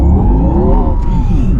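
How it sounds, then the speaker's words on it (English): A Porsche Taycan Turbo GT electric car accelerates hard with tires spinning, a loud, close rising whine and rumble with a pitch sweep, brief and without talking. "It just spins the tires all the time."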